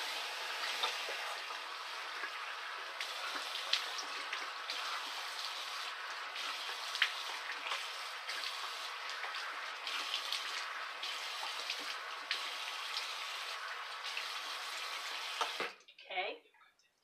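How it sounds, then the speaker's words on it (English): Running water at a bathroom sink as a face is rinsed during a morning skincare routine, a steady soft splashing flow with small irregular splashes that stops abruptly near the end. "now we're gonna rinse"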